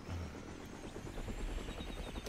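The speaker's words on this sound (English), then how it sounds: "did you see that helicopter go flying off there?" A helicopter flies in the Roblox game Mad City. A fairly quiet, steady rotor chop and hum continues for about two seconds, with no speech over it.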